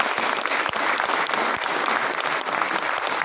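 Steady, dense clapping from a large audience at a May Day rally, sustained and loud throughout with no break.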